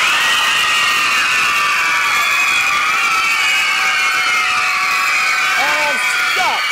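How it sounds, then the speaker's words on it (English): A crowd of girls cheering and screaming loudly together, a sustained high-pitched roar of voices that holds steady, with a few whoops rising near the end. "I want the girls to clap and cheer as loud as you possibly can"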